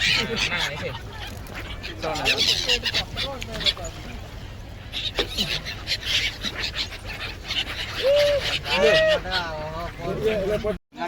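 Many birds call and squawk in a busy chorus, some harsh and quacking, near and continuous over water noise at the Triveni Sangam river confluence in Prayagraj, with people talking in the background.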